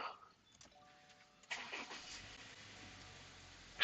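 A car engine cranks and catches using an Ancel BS200 supercapacitor jump starter, a sudden loud start at mid-clip followed by steady running, preceded by quiet background.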